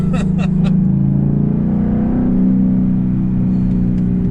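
A loud Ford Mustang sports car engine revs hard, its deep, throaty roar swelling and holding steady near the microphone with a few sharp higher blips early on.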